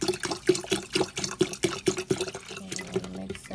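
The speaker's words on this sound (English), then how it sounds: "And then you want to add your bottled water or whatever water you use," Bottled water being poured into a drink mixture for a Christmas dinner, a close steady trickle with rhythmic gurgling pulses that break into looser splashing toward the end, no talking.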